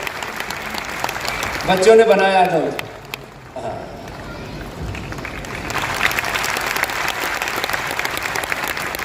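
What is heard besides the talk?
audience applause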